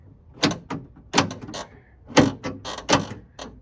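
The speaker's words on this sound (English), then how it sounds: "so now door lock works" Repeated mechanical clunks and clicks of a Corvette C3 door lock working, several sharp actuations in quick succession, close by.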